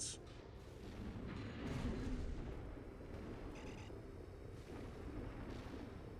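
Distant artillery fire from Liberation Front artillery placements in the video game Armored Core 6, a faint continuous rumble of booms and blasts with no talk over it.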